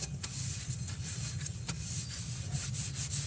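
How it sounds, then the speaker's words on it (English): A Scotch-Brite pad scrubs the surface of an engine belt pulley, a continuous close, rough rubbing hiss with faint rhythmic strokes and a low background rumble. "we're just going to take a Scotch-Brite and get that surface nice and shiny"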